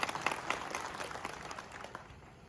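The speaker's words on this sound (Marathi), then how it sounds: "आपल्या सर्वांनी जोरदार टाळ्या वाजवा ही विनंती आहे" Scattered clapping rises from an audience at an outdoor political thank-you gathering, a loose patter of hands that fades away over a couple of seconds and sounds fairly distant.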